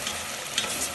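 Tomato puree ground in a mixer sizzles with ginger and garlic in a pan while being stirred, a close, steady frying hiss with a soft scrape of the spoon partway through.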